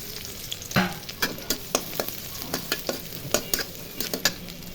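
Chopped garlic frying in mustard oil, a steady sizzle broken by repeated sharp clacks and scrapes of a spatula stirring in the pan, close and fairly loud.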